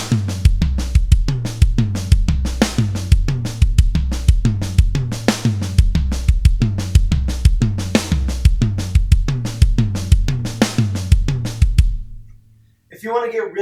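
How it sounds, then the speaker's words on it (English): An acoustic drum kit plays a steady groove with the right hand moving around the kit, punchy kick and snare hits in a repeating pattern, close and loud, ending with a brief pause and a voice starting. "you can have some fun with the groove and make it more interesting to listen to by moving your right hand around the kit"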